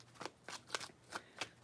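Tarot cards being shuffled by hand, a series of crisp riffling bursts, about five quick swishes in an uneven rhythm, close and fairly quiet with no talking over them.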